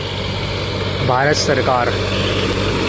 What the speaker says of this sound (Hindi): ICAR करनाल का ये ट्रैक्टर है जिसमें हैरो चल रहा है।